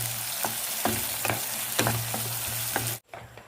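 Tomatoes with salt sizzle and fry in a pan, with repeated scrapes and stirring strokes at a steady pace, close and fairly loud, ending abruptly near the end.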